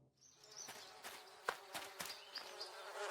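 Cartoon bees buzz close by in a steady hum, with faint rustling and a few soft taps beneath the drone.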